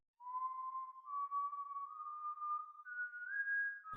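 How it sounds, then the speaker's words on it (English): Someone whistles a slow, thin, wavering tune in a forest horror video game, the faint notes climbing gradually in pitch over near silence. "Is that whistling?"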